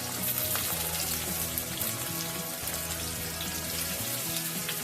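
Onions frying in white oil in a wok, a dense continuous sizzle with faint crackles, steady and close with no voices.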